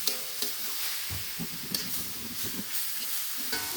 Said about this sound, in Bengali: মূলাটা দিয়ে আমি ভালোভাবে নেড়ে চেড়ে ঢাকা দিয়ে দিব